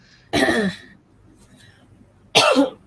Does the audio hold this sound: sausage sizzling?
no